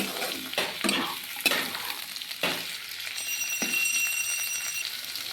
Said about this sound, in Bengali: কুন্দুলিগুলোকে আমি একটু ভেজে নেব।